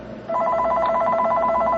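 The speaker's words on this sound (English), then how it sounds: "and the phone rings." A telephone rings loudly and steadily close by, a fast warbling electronic trill that starts abruptly and continues alone to the end.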